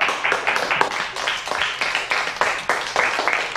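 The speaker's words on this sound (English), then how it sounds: "Don't clap that." Audience members clap steadily through a comedy scene, a dense, fairly close patter of many hands with repeated swells, lasting the whole stretch.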